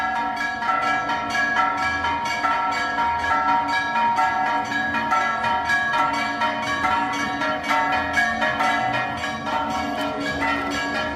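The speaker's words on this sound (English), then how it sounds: "Those bells actually kind of grow on you." Church bells ring continuously in a dense, overlapping peal in a town in Cuenca, Ecuador, steady and moderately distant, with no voices.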